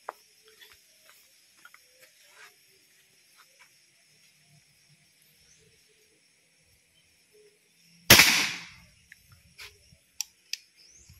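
Single sharp crack of a Gamma Sporty air rifle firing outdoors, loud and close, followed by a short decaying burst and a few faint ticks, with near-silence before it.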